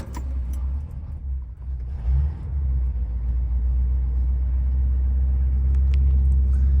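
A 1975 Cadillac Eldorado with a freshly rebuilt carburetor starts up, a deep low rumble that catches after a brief crank and settles into a steady, close idle.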